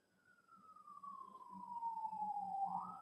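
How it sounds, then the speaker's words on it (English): A fire truck and ambulance siren sweeps steadily downward in pitch, growing louder as it approaches, with a low engine rumble underneath; no talking. "stop the fire trucks and the ambulances"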